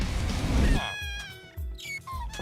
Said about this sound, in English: sounds like a cat's crying in the background